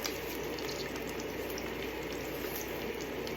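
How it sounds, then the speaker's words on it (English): Steady tap water runs and splashes over broccoli rabe being rinsed in a kitchen, a constant, moderately quiet wash of sound with no pauses. "We're going to wash this and rinse it off."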